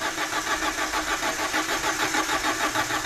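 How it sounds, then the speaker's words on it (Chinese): A hot car engine with a fuel regulator fault cranks with a rapid, rhythmic whirring that pulses evenly throughout and never catches, loud and close. "热车启动有延迟"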